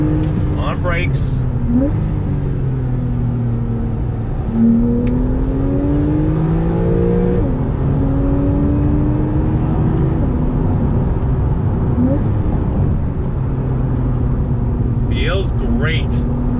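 A Porsche 911 4S drives and accelerates, its engine drone rising and shifting through gears in a loud, continuous rumble close up, while someone talks over it throughout.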